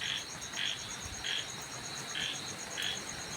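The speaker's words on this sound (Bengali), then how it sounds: "এই যে ব্যাঙ ডাকছে," Frogs croak outdoors on a dark, windy, stormy night, a regular series of five evenly spaced mid-distance croaks over a continuous hum of insects.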